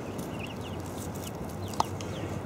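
A hen with newly introduced chicks clucks softly in the background, faint, with one brief sharp chirp standing out near the end.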